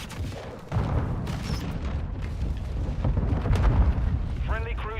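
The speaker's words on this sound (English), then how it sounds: "Friendly cruise missile deployed" A cruise missile in a military shooter game strikes with a sudden heavy boom that rolls into a long, deep rumbling blast, and a voice is briefly heard near the end.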